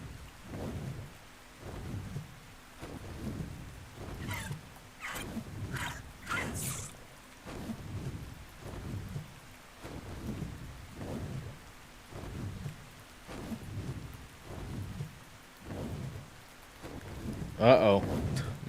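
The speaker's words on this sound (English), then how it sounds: "It's a whole heckin' storm system." A thunderstorm in the video game Ark: steady rain with repeated rolling thunder rumbles at regular intervals, plus a sharper crash near the end, and a person talks now and then.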